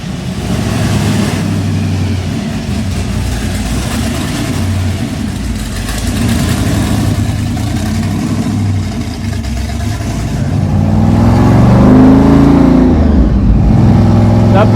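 A 700-horsepower supercharged Hemi in a 1951 Henry J drag car with wheelie bars idles with a deep, lumpy rumble, then revs up louder toward the end, close and dominant throughout.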